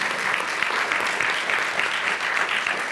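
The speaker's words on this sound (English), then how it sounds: "Can y'all clap it up for that?" An audience at a book talk breaks into full, steady applause, a dense, close wash of clapping that holds at an even level for the whole stretch.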